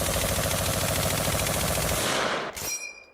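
A Type 99 light machine gun rattles off a rapid, dense burst of automatic fire, loud and continuous, then stops abruptly with a short sharp crack and a fading tail.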